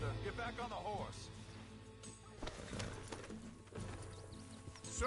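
Steady hoof clip-clops of a horse plodding along in Red Dead Redemption, with voices talking over it and ambient game sounds in the background.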